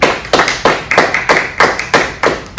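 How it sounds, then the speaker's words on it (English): A standing audience claps in steady unison for Mrs. Bockham, sharp group claps landing in an even rhythm about three times a second, loud and close with no talk over them. "I want you to clap right now for Mrs."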